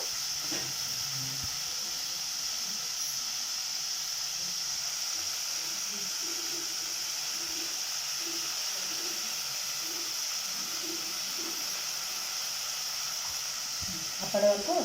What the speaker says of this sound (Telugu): దీన్ని 2 నిమిషాలు టమాటాను మగ్గనిద్దాము.